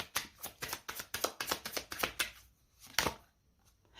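Tarot cards being shuffled and laid down during a reading, a quick series of crisp riffling flicks and slaps close by, pausing briefly before one sharper snap, with no talking.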